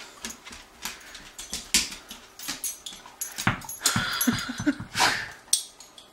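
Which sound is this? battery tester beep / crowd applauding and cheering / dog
dog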